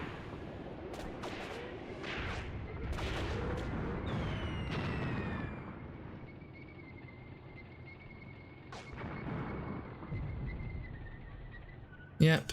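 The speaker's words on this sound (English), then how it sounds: "Oh, these half-tracks taking shots." Half-tracks fire shots in the World War II tactical game Graviteam Tactics: Mius Front, a series of muffled booms and gunfire bursts over a low battle rumble, fading into quieter ambience before a final sharp crack.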